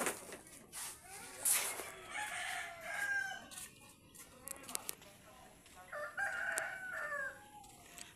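Roosters crow repeatedly, several calls overlapping at different distances, with faint clucking and background noise between them.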